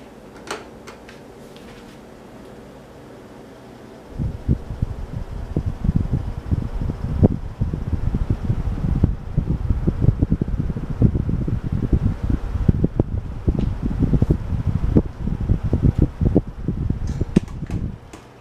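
A brown Galaxy 12-inch table fan, a 2021 remake, switches on at its low setting: a soft hum rises into a steady, close, fluttering rush of air with faint rubbing, with no voices.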